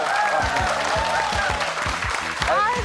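Studio audience applause welcoming comedian Shim Hyung-rae onto a Korean talk show, steady dense clapping at full volume, with music playing underneath.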